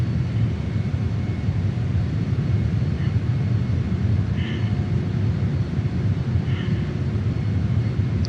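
Steady drone of an airliner's engines as power is eased back on approach to a large airport in Microsoft Flight Simulator 2020, a continuous low rumble with a faint whine, with no distinct changes.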